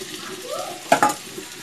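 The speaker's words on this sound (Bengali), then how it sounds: "পেঁয়াজটা ভাজা হয়ে এসেছে, এবার আমি এর মধ্যে দিয়ে দিচ্ছি কুচানো টমেটো" Chopped tomato drops into a pan of fried onions for an egg and cauliflower curry, giving a short burst of sizzle and a quick stir that rises suddenly over a low, steady frying hiss and fades again within a second.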